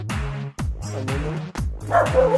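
Dogs bark in a quick run of four or five sharp, close barks, with a whiny yip toward the end.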